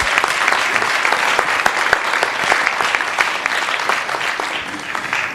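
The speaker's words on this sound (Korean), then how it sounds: "이에 동의하시면 여러분들 박수 한 번만 더 쳐주십시오" Audience at a digital economy policy forum claps together, a sustained crowd applause with some sharper individual claps standing out, gradually easing slightly toward the end.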